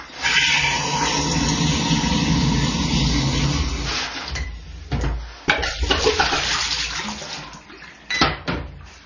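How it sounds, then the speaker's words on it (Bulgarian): Cold tap water runs and splashes while brush parts are rinsed under the faucet, a steady full rush with brief breaks and shifting splashes toward the end, no talking. "Изплакваме с студена вода."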